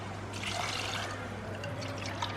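Water pours steadily into a pressure cooker while making chicken 65 biryani, a soft continuous splashing over a low electrical hum in a kitchen.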